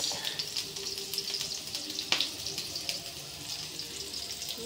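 Onions with salt frying in a pan as fish is cooked, giving a steady broadband sizzle with faint clinks and one sharp knock near the middle, and no talking.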